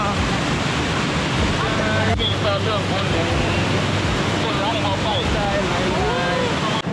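Wind roars past during a zipline ride in Laos, a loud, constant buffeting rush that fills everything, with excited voices shouting and cheering over it.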